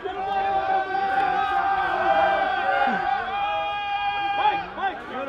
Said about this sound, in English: this crowd is rowdy today